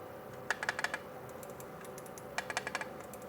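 An ALMO ZigBee smart wall switch clicking: two quick bursts of sharp, light clicks, several crisp taps in each, set against a faint room hum.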